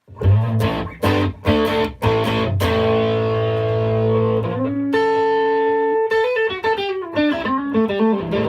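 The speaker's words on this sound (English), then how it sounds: "adding just a very, very quick decay reverb is going to help kind of liven up the overall sound" Distorted electric guitar plays chords, then single-note lines, with a short, tight reverb adding brief ambience; no talking.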